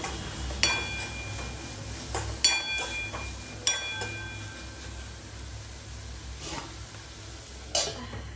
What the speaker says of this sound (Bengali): ভালো করে কষিয়ে নিচ্ছি মশলাটাকে